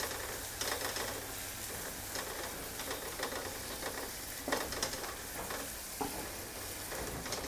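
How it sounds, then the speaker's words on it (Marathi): Ground masala sautéing in oil for moringa rice, with a continuous close sizzle and the intermittent scrape and clatter of stirring. "आणि हा जो मसाला आहे आत्ता आपण वाटला होता तो सगळा घालते त्याच्यात. आणि थोडासा परतायचा आहे मसाला."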